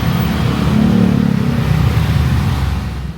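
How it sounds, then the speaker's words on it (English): A small custom-built vehicle, half motorcycle and half truck, rides through narrow Bangkok alleys. Its engine drones loudly and steadily up close, with a slight rise in revs partway through. "A custom modified little machine, half motorcycle, half truck."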